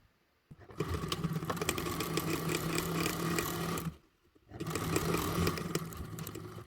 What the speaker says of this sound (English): So we're going to head over to the sewing machine now.